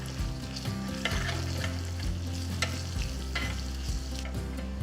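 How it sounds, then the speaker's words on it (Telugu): Curry leaves, ginger, green and dried red chillies and asafoetida crackle in hot oil for a curd tempering, a dense, continuous sizzle with sharp pops, and stirring clatters over a low steady hum. "కొన్ని కరివేపాకులు వేసి వేయించాలి"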